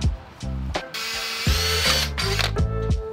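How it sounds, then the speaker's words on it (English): Power drill boring a hole through a custom-built rack, a loud steady whine lasting about a second and a half, framed by short clanks and knocks of tools and metal parts close by. "I've got one hole drilled."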